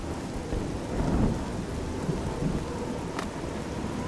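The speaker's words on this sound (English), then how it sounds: "And it's thundering." A thunderstorm in the video game Oblivion, with a steady wash of heavy rain and low rumbling thunder swelling throughout, and no talking.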